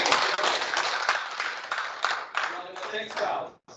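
An audience at a training workshop claps in a fairly loud, continuous round that thins toward the end and stops abruptly, with a few voices mixed in.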